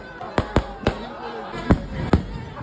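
Fireworks go off at the Suchindram temple festival, five sharp booms spaced irregularly over a crowd murmur, loud and close with echoing tails.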